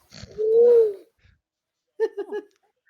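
A person imitates owl hoots with the voice: one long drawn-out hoot, then after a pause a quicker run of three shorter hoots, close and fairly loud.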